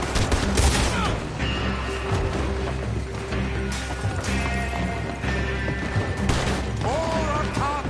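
Rapid gunfire in a Red Dead Redemption 2 shootout, dense overlapping shots and booms over a loud continuous game mix, with hoofbeats and shouted voices woven through.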